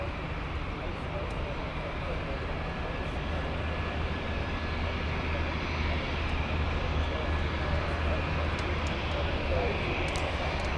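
A Lufthansa airliner's jet engines at Frankfurt airport give a steady, broad roar that holds evenly throughout, with a deep low rumble underneath.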